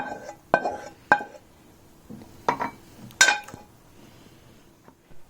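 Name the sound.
cooked vegetables being taken out into a bowl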